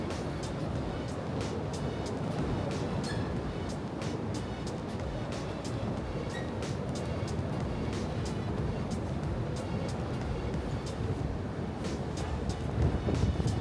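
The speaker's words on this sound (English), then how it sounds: "It is very windy." Strong wind at sea on the Bass Strait, aboard a cruise ship, roars steadily across the microphone, a constant heavy rush with low rumble throughout and no clear voices.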